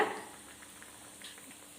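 Sweet potato vadas sizzle in hot oil, a steady soft crackle and hiss after a brief louder splash at the start, heard alone without talk.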